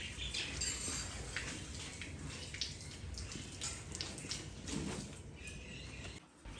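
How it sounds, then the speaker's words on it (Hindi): Water splashes and pours steadily while clothes are washed by hand at home, a continuous close wash of running and sloshing water with a brief dip near the end. "डालो डालो पानी।"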